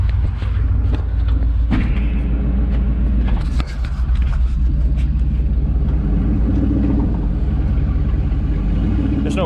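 Heavy-duty dump truck backing up, its engine a loud, steady low rumble with occasional thumps and clunks, close by.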